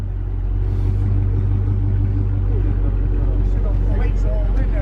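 A 2021 Dodge Charger Scatpack with its muffler deleted idles close by, a loud, deep, continuous exhaust rumble that holds steady throughout.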